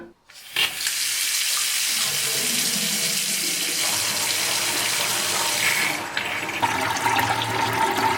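Water gushes from a tap into a farmstead sink, a loud, steady splashing rush that begins abruptly and continues without pause, with a faint change in tone near the end.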